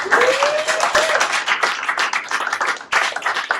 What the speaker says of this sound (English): I think we should give them a massive round of applause